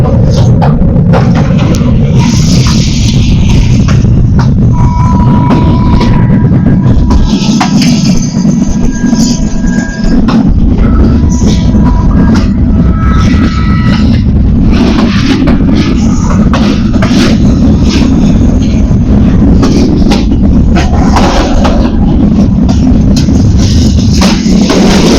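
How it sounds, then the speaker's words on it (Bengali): A local passenger train, a 2321-series service, running from Shyampur to Rangpur and slowly gathering speed: a loud, continuous rumble and rattle of wheels and carriages with faint squealing tones drifting in and out. "আমাদের ট্রেনটা কিন্তু চলতেছে আস্তে আস্তে"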